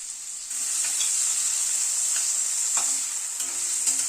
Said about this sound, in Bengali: একটা বড় সাইজের আলু ডুমো ডুমো করে কেটে হালকা একটু বয়েল করে নিয়েছি, সেটাকে ভেজে নিচ্ছি